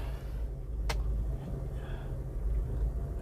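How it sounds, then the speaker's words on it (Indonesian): Toyota Kijang Krista 1.8 EFI engine idling, heard from inside the car as a steady low hum, faint and even, with one brief click partway through. "seperti inilah suara dari mesin itu"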